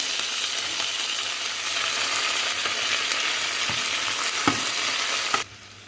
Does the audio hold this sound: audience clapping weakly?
no